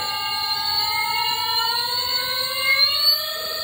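A heavy-magnet electric bike motor in first gear whines steadily upward in pitch as it speeds up, a bright layered tone climbing smoothly and continuously with no voices.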